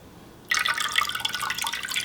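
Water poured onto a sneaker treated with water-repellent spray, heard as a sudden, steady, close splashing and trickling that starts after a short quiet moment and keeps going.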